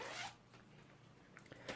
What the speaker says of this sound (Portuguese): vamos aplicar agora o zíper